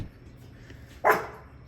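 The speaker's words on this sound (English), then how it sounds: "what you barking at?" A dog lets out a single sharp bark about a second in, loud and fairly close, against a quiet indoor background.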